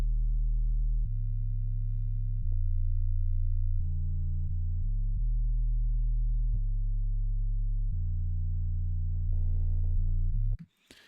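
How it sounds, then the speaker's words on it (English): A low, buzzy bitcrushed synth bass built from sine and square waves plays a line of sustained notes that step between pitches, alone, and it cuts off abruptly at the end. "the way I made this bass was a sine wave with a square wave with a bit crush distortion"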